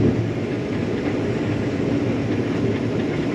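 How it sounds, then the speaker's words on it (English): A combine chopper processes tough soybeans during a Wisconsin harvest, a loud, steady broadband mechanical drone and rumble that continues without a break, with no voices. "I hate that sound when tough beans go through the chopper."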